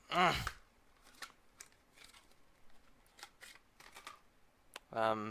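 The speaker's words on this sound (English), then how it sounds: "This is why I hate plastic wrapping. So, I'm opening this darn thing." Crinkling and tearing of plastic wrapping on a Newegg package holding a Radeon 7750, Kingston SSD and Biostar motherboard, scattered rustles and snips between bursts of nearby speech at the start and end.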